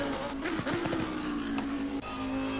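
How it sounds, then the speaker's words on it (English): Lamborghini race car engine on board at Brands Hatch in Assetto Corsa Competizione, a steady close engine drone with a few quick gear shifts and rev changes. "We are on board with Ice Tin's Lamborghini."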